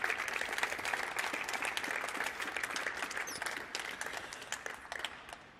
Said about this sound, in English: You definitely deserve a little rest now, but also a big applause.